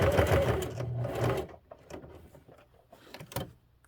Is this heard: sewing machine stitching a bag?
yes